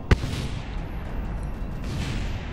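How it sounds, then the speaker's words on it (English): Airplane crash explosion in a flight video game: a sharp boom at the start, then a sustained dense roar of rumbling debris and fire noise that holds steady to the end, with no talk. "I will crash this into the ground, and you will enjoy these explosions"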